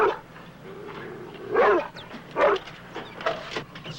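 A dog gives a few short barks and yips between quieter moments, close by and moderately loud, with no speech.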